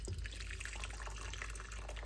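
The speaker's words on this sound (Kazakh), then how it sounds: "осы асқабағымыздың кішкене суын бір ыдысқа құйып алып" Cooking water from boiled pumpkin pours into a bowl, a steady liquid trickle and fill with faint drips, close and quiet, with no speech.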